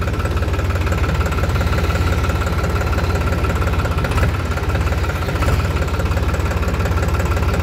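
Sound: New Holland tractor engine running while driving

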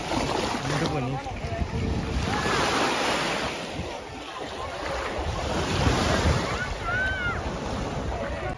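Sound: waves at Mondello beach, Palermo

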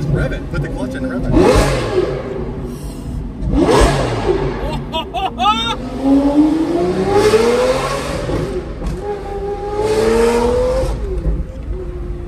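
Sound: V12 supercar engine revving with clutch in

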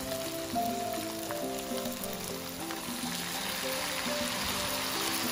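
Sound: calamansi or lemon juice added to melted butter, sizzling

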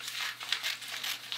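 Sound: cutting fabric sleeve for sewing

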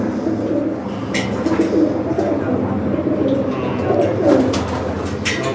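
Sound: pigeons cooing

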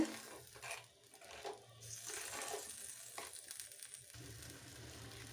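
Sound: kasuri methi being fried and stirred in a pan

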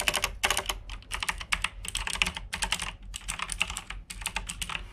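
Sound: mechanical keyboard typing

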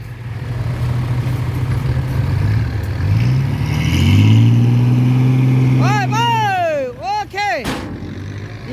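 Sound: vehicle engine revving after being put in gear

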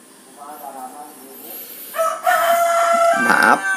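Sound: rooster crowing

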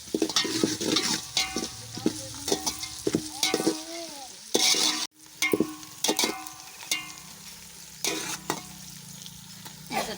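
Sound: green chillies, tomato and ginger-garlic paste frying in pan

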